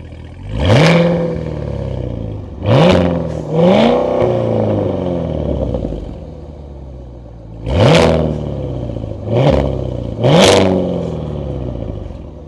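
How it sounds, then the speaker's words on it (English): A 2023 Cadillac Escalade V with quad exhaust outlets and an active exhaust system revs hard six times, each loud, close blip rising and falling back to a rumbling idle between bursts. "We have quad exhaust outlets and this has an active exhaust system."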